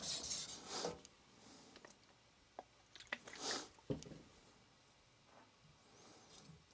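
A German steel cook's knife worked on a coarse Shapton Kuromaku 320 whetstone: quiet, irregular rasping strokes with intermittent louder scrapes and pauses, up close with no talk.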